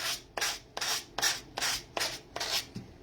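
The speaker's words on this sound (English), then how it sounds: "I can go around with a little sander. And I'm just going to lightly sand" A small sander lightly works paper off the edge of a box in about seven even back-and-forth strokes, each a close, soft, scratchy rasp separated by brief pauses.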